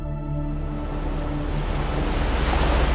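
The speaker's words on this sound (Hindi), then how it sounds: "कभी ये रास्ता समुद्र के इतने करीब से गुजरता है कि लहरों की आवाज़ हवा के झोंकों में साफ महसूस होती है" Ocean surf along the Road to Hana on Maui, Hawaii, rolls as a steady broadband wash of waves mixed with wind, close and fairly loud, swelling slightly toward the end with no voices.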